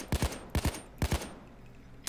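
Three quick bursts of gunfire, each a pair of sharp shots, ring out at a shooting range in the video game Payday 2, evenly spaced and loud, with no talking.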